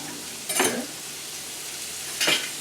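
Butter sizzles in a pan with red snapper fish, a soft steady fry broken by two brief louder bursts of hissing and scraping.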